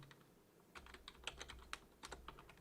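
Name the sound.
typing on a computer keyboard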